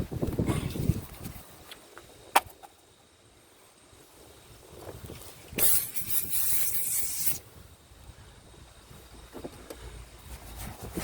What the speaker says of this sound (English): Let me spray some more stuff on it